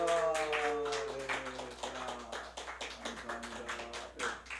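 A church congregation applauding together, a dense patter of clapping hands heard over a sustained organ or keyboard chord in the sanctuary.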